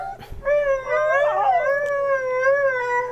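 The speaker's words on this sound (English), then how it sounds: "And here is Moss, the singing dog, in the Cyma Scope." A dog howls in a long, sustained, wavering tone with rising and falling pitch, clear and close, alone with no talking, treated as the animal's singing.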